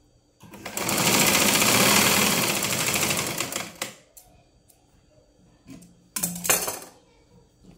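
A sewing machine runs in one sustained burst of rapid stitching on a blouse, followed by a quieter pause and a second short burst, with no talk over it.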